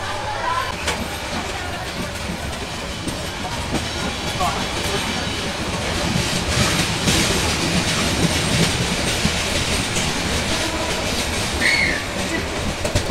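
The Mohanagar Provati Express, running from Dhaka to Chittagong and heard from an open carriage door, gives a loud, continuous rumble with rhythmic clickety-clack of wheels over rail joints and rushing wind.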